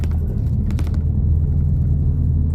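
Car rolling through a highway toll gate, a loud, close, low rumble of engine and road noise with a few brief knocks near the start and no voices.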